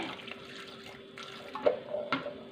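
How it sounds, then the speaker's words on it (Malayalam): Water splashes and pours into a cooking pan from close by for a couple of seconds, a steady liquid rush with a few brief clinks. "ഇനി കുറച്ച് വെള്ളം ഒഴിച്ച് വേവിക്കാമേ"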